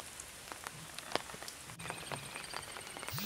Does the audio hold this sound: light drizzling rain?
yes